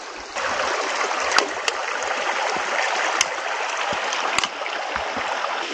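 Water of a mountain stream pours and rushes steadily over rocks near a spring, with a loud, constant flow broken by a few sharp clicks, and no voices.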